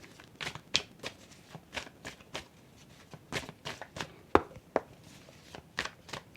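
Oracle cards shuffled for a reading, a close series of crisp papery slaps and riffles in an uneven rhythm, about a dozen distinct hits with quiet gaps between, no talking.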